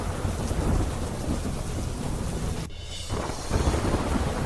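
Heavy rain pours with rolling thunder during a storm over flooded streets in Nawalgarh, Jhunjhunu, Rajasthan, a dense, steady roar that drops away briefly near the end before surging back, with no voices.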